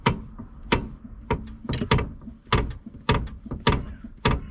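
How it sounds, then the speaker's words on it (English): Worn front pivot arm bushes on a Peugeot 407 make the suspension knock again and again, giving about a dozen sharp, close, clunking thumps in an irregular rhythm as the car is rocked, with no talk over them. "That's what you get when you start to drive or stop. You get this knocking."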